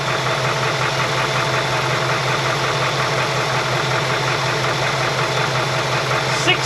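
A 1966 Ford F100 engine idles steadily with a faint knocking rhythm and a constant whine from an overcharging alternator, close and continuous with no talk.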